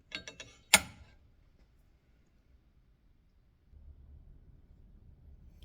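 A sanding belt changed on a knife belt grinder: a few light clicks and one sharp snap of the belt seating, then near silence before a faint low hum starts up.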